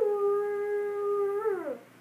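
A person's voice imitates a wolf howl through cupped hands, a single sustained, steady tone that holds for over a second, then bends and falls away at the end, fairly close and alone.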